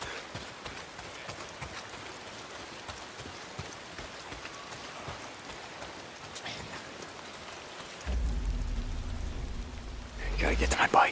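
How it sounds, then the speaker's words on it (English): Steady rain pours down across the mountains in the game Days Gone, a constant broadband hiss throughout, joined near the end by a louder low rumble and brief patter. "Why is it always raining?"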